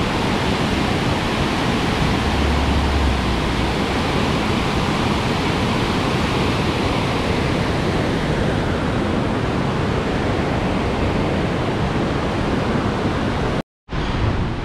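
The Bad Gastein waterfall in the Austrian Alps makes a deafening, steady, broadband roar. It is close and unbroken except for a momentary dropout near the end.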